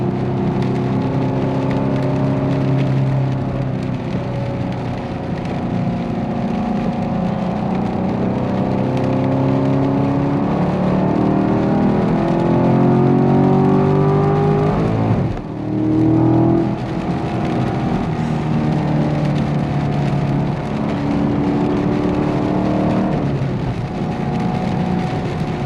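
A Chevrolet Camaro LT1 V8 with a six-speed manual, driven in sport mode, growls loudly and close up, its engine note climbing through the gears in rising sweeps, with one brief dip at a shift before pulling hard again.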